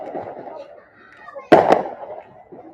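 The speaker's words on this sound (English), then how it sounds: "Some fireworks being set off, as you can hear." Fireworks go off during an outdoor baseball game, a sharp double bang bursting out of faint background crowd murmur and distant voices.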